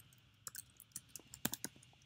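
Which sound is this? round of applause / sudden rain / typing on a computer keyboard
typing on a computer keyboard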